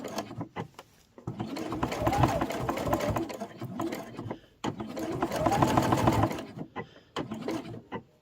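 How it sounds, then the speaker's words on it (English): A sewing machine stitches a sling bag strap in two long, loud, close runs with short pauses and a few brief stitches between them. "I'm just going to run another line of stitching over that as well."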